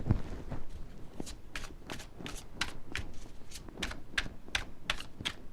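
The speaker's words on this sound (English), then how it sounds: "I'll take out a couple of little tarot cards over here." Tarot cards being handled and drawn from the deck, giving a steady run of crisp, close card flicks and snaps, about a dozen sharp clicks in quick, slightly irregular succession.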